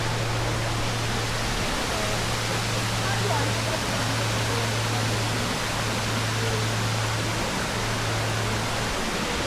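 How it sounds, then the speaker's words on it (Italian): Rushing waterfalls in the Caglieron stream gorge, carved through rock in the Veneto, make a dense, constant roar that fills the whole stretch with a low hum beneath, and a voice may sit faintly underneath. "il torrente Caglieron scava da secoli tra le rocce, formando cascate impetuose, gole profonde e giochi d'acqua"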